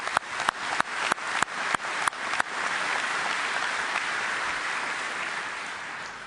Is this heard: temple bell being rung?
no